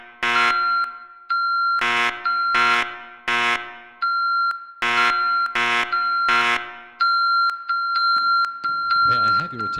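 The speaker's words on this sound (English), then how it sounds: "today we're gonna be doing a fire alarm boards by Thomas" Fire alarm board sounding a loud electronic alarm in repeated bursts of sustained tones with brief gaps between them, close and alone.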